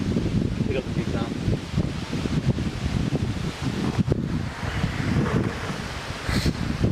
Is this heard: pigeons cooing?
no